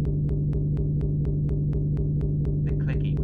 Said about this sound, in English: So get the bass, which sounds something like this.